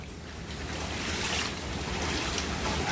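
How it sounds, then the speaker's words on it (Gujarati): Steady rushing wash of village floodwater in Suigam, Banaskantha, broad and continuous like waves or surging flow, with wind noise over it. "જેટલું બધું પાણી ભરાઈ ગયું છે"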